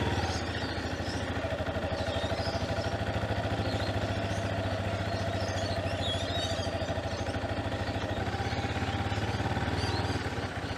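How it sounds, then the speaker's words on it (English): A Yamaha XT250 learner motorcycle in a car park runs with a steady, continuous engine note that lifts slightly in a brief rev, close and unbroken, with no talking. "Just to get dialed in, give it a rev."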